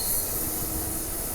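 Train running on rails, a loud, steady close rumble with a high squealing hiss from the wheels, continuous and without talk.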